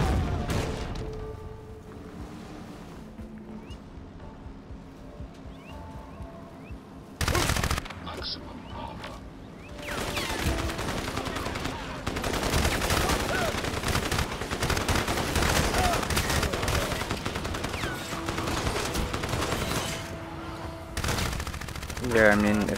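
Gunfire in the video game Crysis: bursts of rapid automatic fire and booming shots, sparse at first and then dense and sustained, with someone talking over the action.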